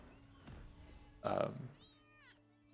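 A house cat lets out a single short, loud meow in the middle, with people talking around it and a faint higher chirp after.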